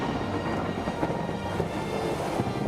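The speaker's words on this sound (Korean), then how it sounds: "번개가 치기 시작했습니다." A thunder sound effect in a storytelling piece about a ship caught in a sudden storm at sea gives a dense, continuous low rumble, loud and unbroken by speech.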